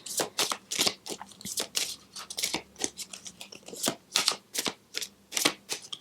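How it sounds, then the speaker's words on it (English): Tarot cards being shuffled, a rapid series of crisp riffling bursts in uneven rhythm, close and fairly loud, with no talking. "Okay, let me get some other cards now."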